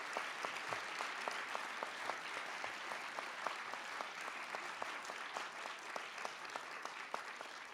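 Audience applause at an association's annual awards presentation, a steady wash of many hands clapping in a large room, fairly distant and even for several seconds.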